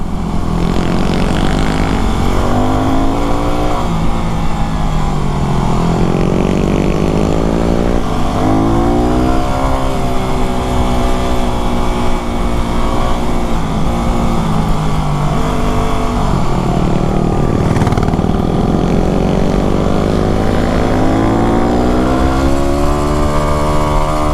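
Honda CRF250L and Yamaha WR250R dual sport motorcycles ride a bumpy paved Santa Cruz Mountains road, their engines loud and close, revs sweeping up and down repeatedly through gear changes.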